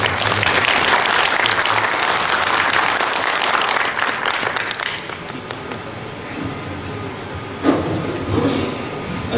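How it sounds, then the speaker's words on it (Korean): An audience welcomes Professor Oh Jun-ho with loud, dense applause that thins out about halfway through, followed by a few bumps and handling noises as the clapping trails off. "자, 그러면은 오준호 교수님 큰 박수를 맞이해 주십시오"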